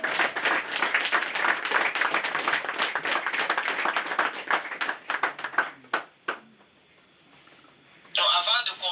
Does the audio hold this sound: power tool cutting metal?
no